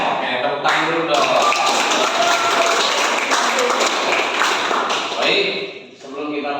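A classroom of students clapping their hands together, a dense, steady burst of applause lasting several seconds before fading, with voices mixed in.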